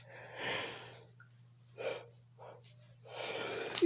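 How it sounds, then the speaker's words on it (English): A person yawning and breathing heavily, with several drawn-out airy exhalations and gasps separated by short pauses, close and fairly quiet against a low steady hum. "I do so apologize for just yawning over and over again on this live here"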